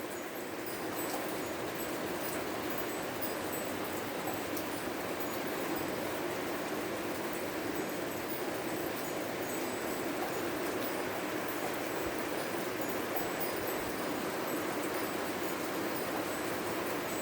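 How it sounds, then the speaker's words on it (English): Heavy rain falls steadily during a thunderstorm with high winds in southeastern Pennsylvania, a dense, even hiss that holds at the same level throughout with no breaks and no voices. "The rain is getting a little bit heavier"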